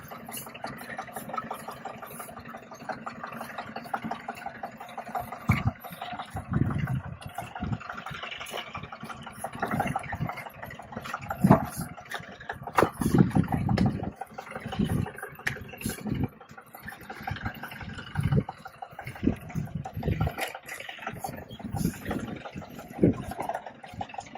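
Safari jeep driving downhill off-road at Masinagudi near Ooty, with a steady engine drone and bursts of rough tyre skidding and rattling over loose ground, loud and close throughout.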